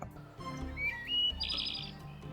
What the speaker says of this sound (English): And there goes our bird flying away there.